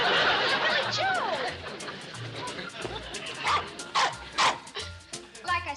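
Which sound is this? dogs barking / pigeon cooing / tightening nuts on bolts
dogs barking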